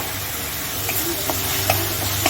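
Ginger-garlic paste sizzles in a pan while being stirred, a dense, loud, continuous frying hiss with a few faint scraping ticks, close up and with no speech.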